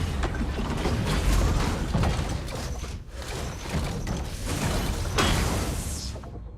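Megatron shifts between robot and vehicle form in a Transformers video game, producing dense, loud mechanical whirring, ratcheting and clanking with whooshes. The sounds run continuously in two surging bursts, heard alone without talk.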